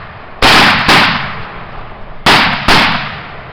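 Four loud, sharp gunshots fired in a forest, in two pairs about half a second apart with a pause between, each followed by a short echoing decay, no talk.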